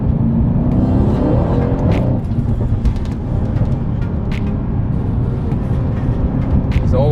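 A Jaguar F-Type R accelerates hard with a steady loud engine roar and tire noise, heard close up from nearby, with a few short clicks and knocks over the top.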